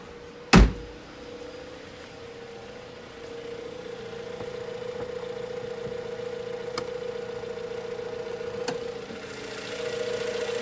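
A 2016 Chrysler 200 S's clean 2.4-liter normally aspirated inline four-cylinder idles under the open hood with a steady, even hum after a single sharp thump at the start.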